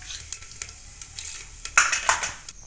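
Coriander, cumin and fenugreek seeds drop into hot oil, crackling and sizzling in short bursts with a few stirring clicks, growing louder toward the end; nobody speaks.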